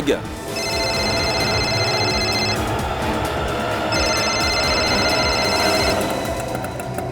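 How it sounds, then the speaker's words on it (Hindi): An incoming call ringing on a phone, a repeating electronic ring tone in two long bursts over a busy background rumble. "ये दिनेश क्यों फोन कर रहा है मुझे?"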